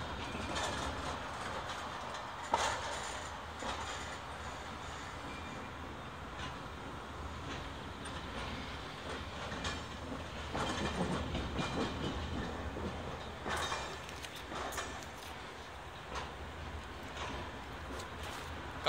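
Loaded railway freight wagons rolling during shunting work at Petäjävesi, a continuous rumble with wheel clatter, hiss and occasional sharp metallic knocks and squeals, heard alone.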